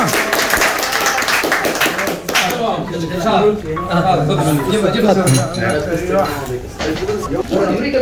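Rhythmic hand clapping from a group at a gathering in Abu Dhabi, steady repeated claps mixed with clinking and lively chatter, voices talking over it throughout.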